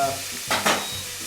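An eye round steak fries in a hot pan, a loud continuous close sizzle with two brief surges of crackle midway as the meat shifts, no talking.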